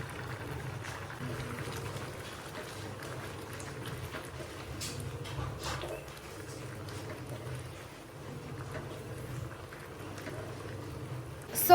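Ambat varan, a sour Maharashtrian dal, simmers at a steady boil in a pot, giving a low continuous bubbling rumble with faint scattered pops throughout, no voices over it.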